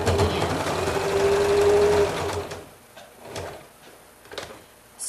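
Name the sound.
sewing machine back stitching quilt binding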